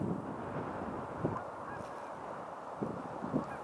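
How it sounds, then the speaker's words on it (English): Canada geese honk in a handful of short calls over steady outdoor background noise at a forest preserve pond, the calls spaced irregularly and moderately distant. "They're Canada geese, not Canadian geese."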